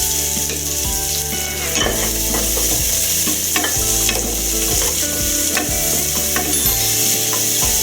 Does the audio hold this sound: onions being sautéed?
yes